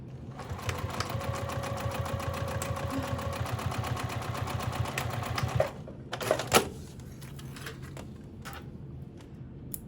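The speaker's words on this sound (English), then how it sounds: "So I'm going to back stitch, continue straight, back stitch, and then we'll come down the other way." Sewing machine stitching a seam at a quick, even, rhythmic chatter, pausing briefly for backstitches, then stopping, followed by a few handling clicks and rustles close by.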